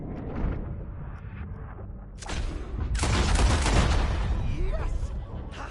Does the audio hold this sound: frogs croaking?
no